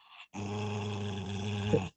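A dog lets out a low, steady growl while being hugged, one sustained rumbling note lasting nearly two seconds, close and clear, with no talking over it.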